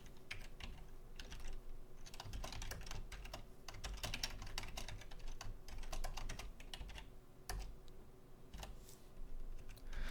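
Close, quick clicking of a computer keyboard as someone types into MATLAB, a steady stream of key taps with brief pauses and no talk.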